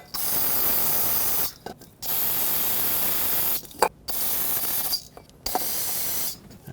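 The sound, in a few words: spraying brake parts cleaner on fuel injectors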